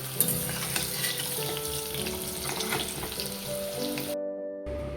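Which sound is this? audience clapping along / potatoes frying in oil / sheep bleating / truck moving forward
potatoes frying in oil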